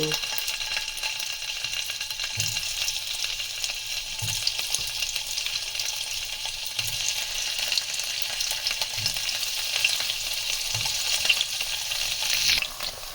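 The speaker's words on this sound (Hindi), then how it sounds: "तो हम पहले पनीर को लाइट फ्राई करेंगे।" Paneer pieces frying in hot oil in a kadai, a constant soft sizzle and hiss with a few low clunks of a spoon, close and without speech.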